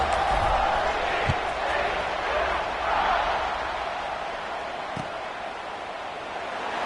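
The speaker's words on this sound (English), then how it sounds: "this crowd is buzzing after that last score" Stadium crowd noise in the College Football 26 video game, a steady broad crowd roar and murmur during a kickoff lineup, with a couple of brief thumps.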